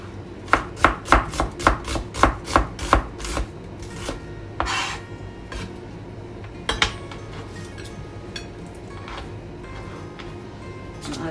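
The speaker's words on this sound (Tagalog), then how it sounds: "start na tayong maghiwa" A knife chops onion on a board in a home kitchen in Japan: about a dozen quick, crisp strokes in steady rhythm, close by, then scattered slower cuts and light clinks.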